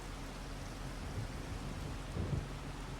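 Steady rain hisses across the Farming Simulator 25 game world during a thunderstorm, with low thunder rumbling up twice beneath the constant downpour.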